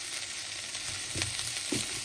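Tomatoes sizzle in hot oil with ginger while cooking khichuri, a steady close frying hiss broken by two soft scraping stirs.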